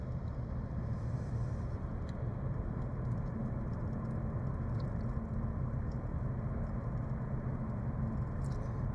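Steady road and engine rumble from inside a vehicle driving on a road near a truck depot, a continuous, even drone with no talking.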